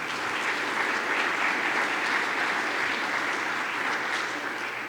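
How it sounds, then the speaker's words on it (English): An audience at a Glen Lake Association annual meeting claps steadily, a dense even roar of hands lasting throughout with no pause. "Let's give him a round of applause."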